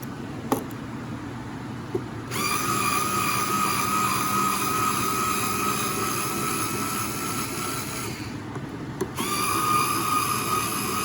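A small electric screwdriver whirs steadily as it backs out a small screw, starting after a couple of sharp clicks and pausing briefly before resuming, close up with no talk.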